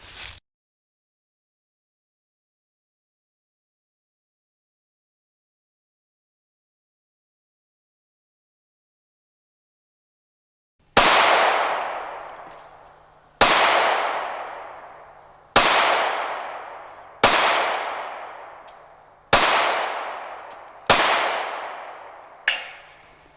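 A Smith & Wesson Bodyguard .380 pistol fires seven loud, sharp shots at intervals of about two seconds, each with a ringing decay, after a long silence.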